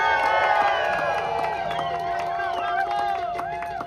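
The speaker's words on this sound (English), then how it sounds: "So please give it a big warm applause for Lalo Vargas." A protest crowd in downtown Los Angeles cheers and claps, with whoops and shouting voices layered over a dense, fairly loud wash of crowd noise that eases slightly toward the end.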